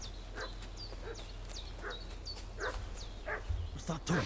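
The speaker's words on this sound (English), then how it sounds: "What's that dog making such a fuss about?" A dog barks repeatedly in the video game Kingdom Come Deliverance 2, sharp yips coming at a steady rhythm from a moderate distance over quiet ambience, growing louder toward the end.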